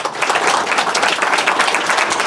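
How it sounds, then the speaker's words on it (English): Dense, sustained applause from an audience at a People of Color Museum fundraiser, loud and steady for the whole stretch with no break and no talk over it. "Let's give Julian and everybody a round of applause."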